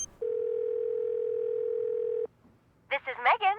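In the Nancy Drew game, a steady telephone dial tone hums loud and unbroken for about two seconds, then cuts off abruptly; after a short quiet gap, a voice begins talking.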